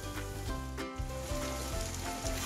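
Tomatoes fry in a pan for a chicken gravy, giving a soft, steady sizzle and crackle beneath a continuous tonal background hum.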